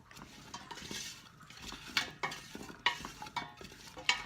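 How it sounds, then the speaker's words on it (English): Chicken stock ingredients cook in a pot with a soft sizzle, while a utensil stirs and clinks against the metal in several sharp, irregular knocks up close. "Oh, I'm starting to hear the sizzle."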